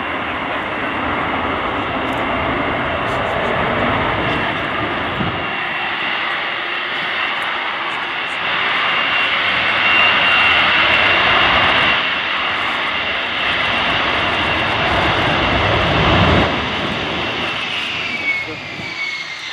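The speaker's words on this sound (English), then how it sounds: "Now the F-35B is going downwind. It's getting ready for a rolling vertical landing." A Lockheed F-35B Lightning II fighter jet roars steadily while flying downwind at an air display, a loud, continuous broadband engine rumble and whine that swells slightly mid-pass.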